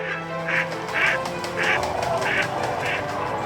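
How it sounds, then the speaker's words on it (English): Ducks and geese call at Wheeler National Wildlife Refuge in late fall or winter: a flock's quacks and honks repeat in regular bursts over a constant background of many birds. "Thousands of ducks, geese, and cranes crowding the skies and fields in late fall and winter."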